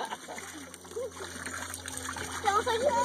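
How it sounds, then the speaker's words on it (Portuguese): Children splashing and pushing water about while bathing in shallow, muddy water, steady sloshing and splatter with children's voices and an adult talking throughout. "Joga essa água pra baixo, Daniel."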